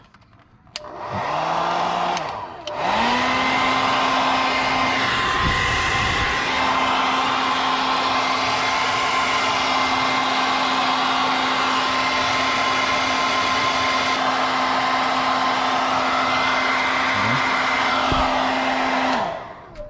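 Heat gun blowing steadily to shrink carbon fiber vinyl wrap on a Tesla Model 3 interior, a loud constant whooshing hum with a steady tonal whine, running almost the whole time with no talk.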